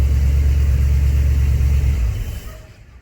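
A Ford F100 project truck's engine idles steadily in a garage, a loud continuous low rumble with slightly high revs, fading and tapering off toward the end.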